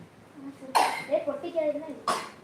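A sharp cough bursts out, followed by quiet indoor murmuring, then a second short cough near the end.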